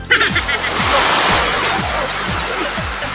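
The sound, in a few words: ocean waves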